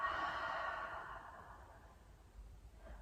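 A single long, soft exhale through the nose or mouth during a yoga session, close and quiet, trailing off into near silence after about a second and a half.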